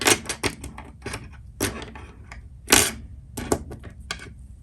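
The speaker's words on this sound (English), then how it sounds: "So what we can do now is just cut them" Scissors snip through tassel threads repeatedly at close range, several sharp irregular cuts separated by short pauses over faint background noise.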